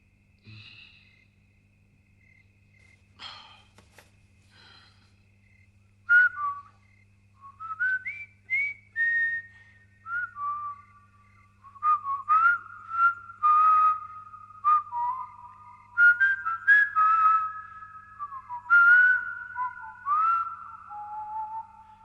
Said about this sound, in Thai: นายผิวปากให้ฉันฟังหน่อยสิ